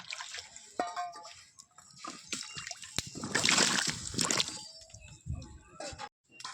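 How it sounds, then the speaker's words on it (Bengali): Water poured over cut potatoes for boiling, splashing and sloshing in irregular bursts with brief drips and trickles, loudest in the middle before cutting off near the end. "পরিমাণ মতন জল দিয়ে আলুগুলো ঢেলে দেব"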